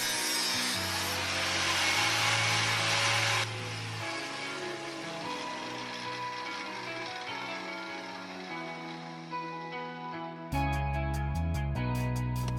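An angle-grinder drop saw cuts through 2-inch stainless steel tube with a loud, steady abrasive whine, noisiest at first, then settles lower before a pulsing, juddering rise at the end.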